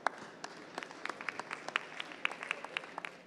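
An audience applauds first-place winners at a startup pitch awards ceremony, many separate sharp claps in a loose, moderately sized round that carries steadily from start to finish.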